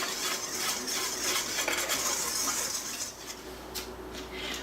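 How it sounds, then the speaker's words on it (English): Seasoning salt, cayenne and granulated garlic being whisked together in a bowl, a run of quick scraping, clinking whisk strokes close by that ease off near the end. "We're just going to whisk all this together to incorporate."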